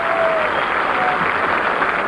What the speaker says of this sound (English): Mrs. Gehrig acknowledging the cheers of the crowd